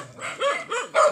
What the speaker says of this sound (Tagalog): Ang dami po nilang aso.